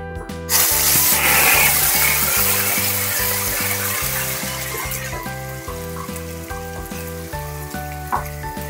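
Green cardamom, cloves, peppercorns, star anise, bay leaves and tomato puree fry for paneer biryani while being stirred, a loud, close, steady sizzle that slowly settles, with background music playing underneath.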